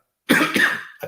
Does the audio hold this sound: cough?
yes